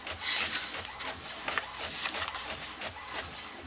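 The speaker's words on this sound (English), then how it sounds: "This printer is so loud." A printer running steadily with a whirring, rasping mechanical hum and faint repeated clicks of the print head, close by with no talking.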